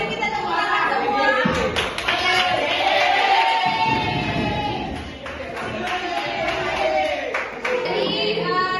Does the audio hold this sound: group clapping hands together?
yes